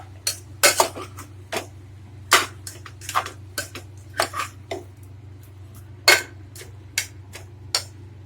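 A spoon scrapes and clinks against a metal pot of banana stem soup in irregular strokes, sharp knocks spaced apart over a low steady hum.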